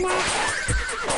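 In a horse fighting simulation video game, a horse gives a single loud, close whinny, shrill and wavering, briefly joined by a thud like a hoofbeat.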